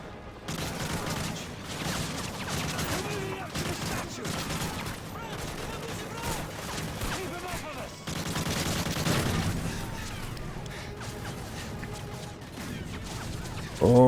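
Rapid, overlapping gunfire crackles from many directions in the video game Call of Duty Modern Warfare 3, with dense bursts and booms running continuously at fairly steady loudness, a louder burst closing the stretch.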